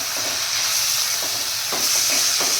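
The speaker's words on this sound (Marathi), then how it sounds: "आता हा मका आणि हा मटार छान मस्त फ्राय करून घ्यायचा आहे आपल्याला" Corn kernels and green peas fry in a pan for pulao, a steady close sizzle and hiss with a few soft scrapes of stirring and no voices.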